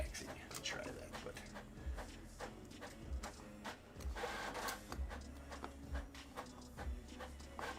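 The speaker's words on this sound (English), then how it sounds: "That time of night when we gotta listen to the printer in the background." A printer runs in the background with a steady low mechanical hum and repeating thumps roughly once a second, fairly quiet and continuous, with scattered clicks and rustling over it.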